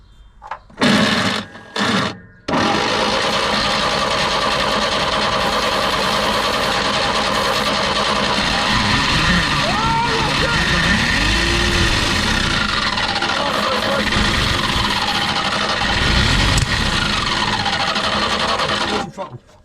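A 1957 Peugeot 403 vintage pickup engine: a few short bursts of cranking, then it catches and runs at a loud, steady, slightly rough idle close by, with voices talking over it briefly.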